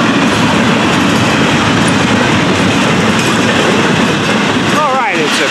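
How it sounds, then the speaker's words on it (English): Florida East Coast freight train with boxcars passing close by on a sunny, windy afternoon, a loud continuous rolling roar of wheels and cars with clatter, wind noise, and a squeal near the end. "Two boxcars right there on the head end behind the engine."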